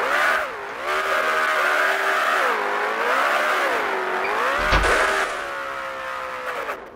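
Supercharged car engine in BeamNG Drive revving up and down in repeated swells, loud and close, with supercharger whine riding over the rumble and a sharp thump near the end; no talking.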